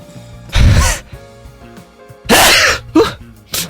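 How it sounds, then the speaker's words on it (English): Loud, close sneezes from one person during a game playthrough: a big burst near the start, a second strong one later, then short sharp follow-up bursts, with quiet game audio underneath. "Kinda gotta sneeze. It's always so loud."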